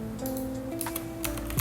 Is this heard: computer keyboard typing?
yes